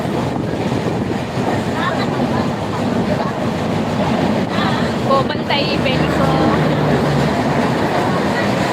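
A passenger train runs along the rails between Thane and Jalna, giving a steady, loud rumble with faint rhythmic clatter that fills the whole stretch while people talk over it.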